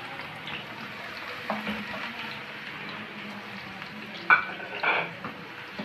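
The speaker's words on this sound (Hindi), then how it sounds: "घी गरम हो चुका है, अब हम इसमें बघार बनाएंगे।" Tempering (baghar) sizzles in hot ghee for palak paneer or palak chicken, a continuous close crackling hiss with a few stirring clinks and brief louder spits near the end.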